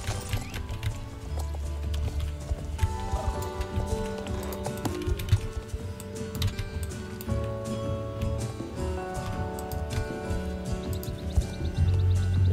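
Horse hooves clip-clop through a busy, music-filled game scene in Star Stable Online during a midsummer festival, with steady steps under layered background music and ambient effects.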